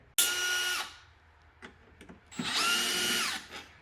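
A power drill or impact tool runs in two long bursts on a Jeep Wrangler JK, removing bolts so spacers can be added, with a short clatter and quiet handling between the near, loud whirring runs.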